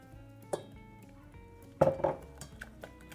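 Cold eggs being stirred into a hot caramel mass in a saucepan for a honey cake, with a few metallic clinks and scrapes of a utensil against the pot, one louder burst of clattering midway, close and otherwise quiet.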